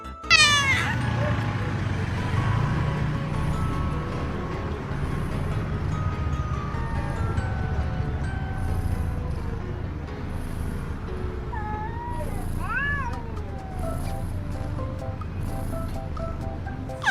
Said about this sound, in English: Then we're gonna meow, meow, meow.